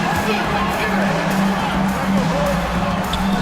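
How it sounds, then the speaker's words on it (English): A loud, continuous basketball arena crowd roar in NBA 2K23, with cheering and clapping that holds steady throughout, dense and close. "Fans, please give a big round of applause."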